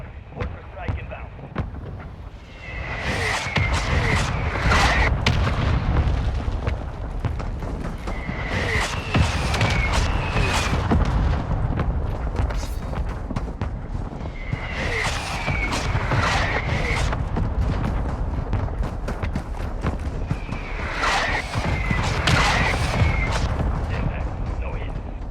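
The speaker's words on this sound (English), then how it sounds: "Mortar strike inbound." Mortar strike explosions in Warzone 2, loud booming blasts arriving in repeated clusters over a constant rumbling background, with a voice talking over them.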